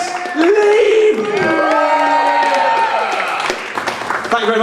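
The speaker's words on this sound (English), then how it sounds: "That applause makes it sound like there's hundreds of people there." Loud applause and cheering from a comedy club audience at Centre Stage, dense clapping with a few whoops, sustained throughout and tapering slightly toward the end.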